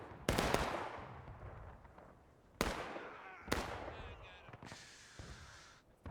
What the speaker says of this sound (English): They're gonna try to hold him with these pistols.